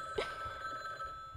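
A telephone rings in a dark, spooky horror video game, a faint steady tone over low eerie ambience with a soft thud near the start, no talk.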